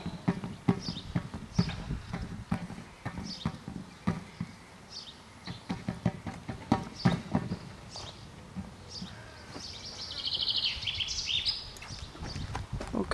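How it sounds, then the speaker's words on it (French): A horse walks at an even pace, its hooves clip-clopping in a steady rhythm at moderate distance, with birds chirping faintly in the background. "Voilà, même lorsque le cheval marche"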